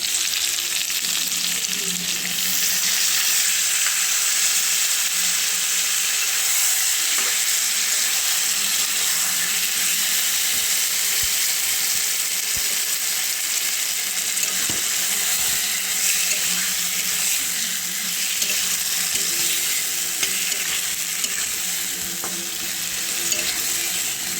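Turmeric, ginger, cumin and green chili paste hits a hot pan for a pabda fish curry, giving a loud, steady sizzle of frying with occasional stirring scrapes throughout, no voices.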